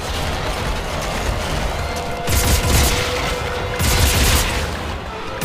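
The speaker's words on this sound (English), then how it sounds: "This gun is good. But I need a rate of fire for this if I need to survive." Weapon fire in the video game Dead Space 3 bursts out amid a dense, loud background of game noise, with two heavier blasts standing out near the middle.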